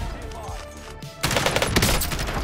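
Burst of automatic fire from an ACR assault rifle in Call of Duty Warzone, loud and sustained after a quieter opening, rapid crackling shots filling the second half.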